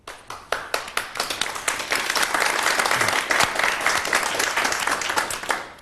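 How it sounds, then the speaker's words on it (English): A quiz show studio audience breaks into applause, starting as scattered distinct claps that quickly swell into a full, loud, sustained burst of many hands before thinning slightly at the end. "I would have thought a pretty well-deserved round of applause."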